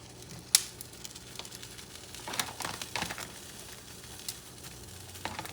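Potatoes frying in a pan as part of an Ecuadorian churrasco meal, giving a faint steady sizzle with a sharp clatter near the start and scattered stirring scrapes and crackles, no voices.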